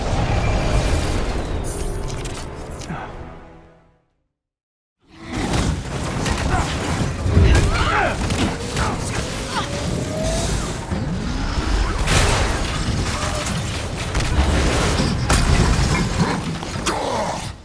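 Chaotic combat from the video game Marvel's Avengers: loud crashing impacts, whooshes and shattering bursts in a dense mix, cut by a brief second of silence before the clamor resumes.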